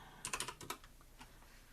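Computer keyboard typing in a quick burst of about six crisp keystrokes, close and fairly quiet, followed by a couple of softer isolated taps.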